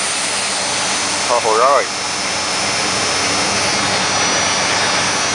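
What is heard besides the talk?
1993 Dodge Dakota 3.9L engine starting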